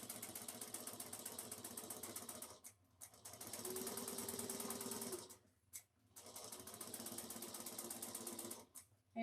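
A sewing machine stitches a bag in quiet, rapid mechanical runs, stopping briefly three times between bursts of steady needle clatter.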